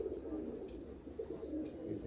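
Madrasi pigeons coo softly at close range, low burbling calls repeating over a faint steady background with no clear speech.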